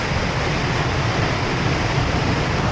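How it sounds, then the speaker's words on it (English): A powerful waterfall swollen by rain and flooding roars as a dense, unbroken rush of water, loud and close throughout with no pauses. "Up here, the waterfall starts. It's very aggressive."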